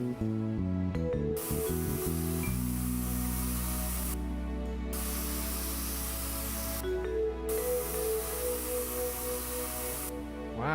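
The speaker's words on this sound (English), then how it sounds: "It's definitely changing the amount of paint that's spraying." A spray paint nozzle hisses in bursts in the Spray Paint Simulator video game, a steady airy spray over low droning game music, briefly cutting off and resuming several times.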